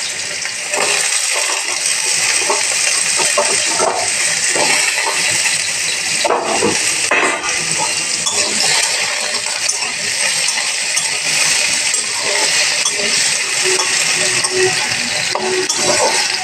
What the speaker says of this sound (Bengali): গোটা জিরে আর তেজপাতা ফোড়ন দিয়ে দেব। দিয়ে আলুগুলো দিয়ে দেবো।